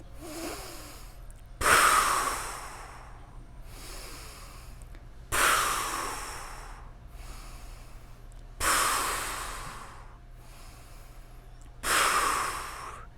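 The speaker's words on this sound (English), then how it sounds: "In the nose, out through pursed lips." Four slow, deliberate yoga breaths during a core workout: each a sudden rushing exhale through pursed lips that fades gradually, separated by softer, quieter inhales through the nose, close and alone with a faint steady hum beneath.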